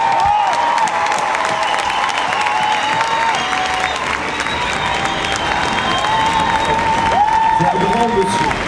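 A theatre audience applauds for François Chouquet during a making-of session for Mozart l'Opéra Rock, with sustained crowd clapping and scattered cheers that fill the whole stretch, loud and steady with some voices mixed in.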